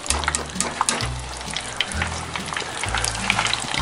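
Lionfish sizzles and crackles steadily as it fries in hot oil, with bursts of popping and occasional clattering from close by.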